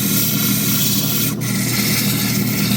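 An opal is cut on a gritty grinding wheel, a continuous close, loud abrasive rubbing and grinding with a brief sharp scrape partway through.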